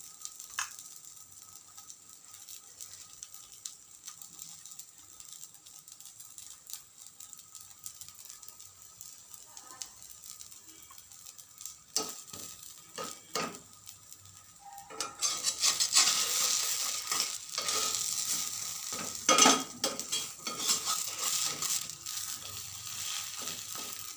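A banana uthappam made with palm jaggery cooks on a pan, first quiet with scattered faint scraping, then a softer sizzle that swells and stays steady through the second half, close and unvoiced.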